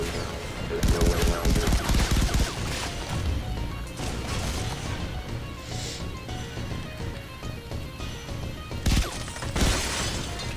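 Gunfire from the video game Far Cry 3 Blood Dragon, with rapid shots, impacts and crashing effects layered in a dense, loud, continuous mix of game sound.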